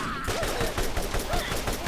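Enemy gunfire in the first Borderlands game: a rapid automatic burst of repeated loud shots in steady succession, sustained for the whole moment with no pause.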